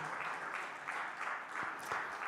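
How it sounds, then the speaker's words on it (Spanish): A church congregation applauds at a worship service, a dense, continuous patter of many hands clapping that stays steady throughout the short stretch. "Denle otro aplauso a Cristo el Señor"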